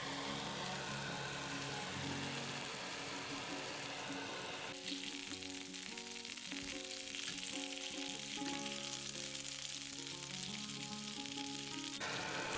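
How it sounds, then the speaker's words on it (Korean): Kitchen torch roaring over chicken skewers to give them a smoky char: a steady, loud broadband hiss for the first few seconds, then a quieter stretch with tonal sounds layered over it. "불맛을 더할 수 있도록 토치질도 해준다."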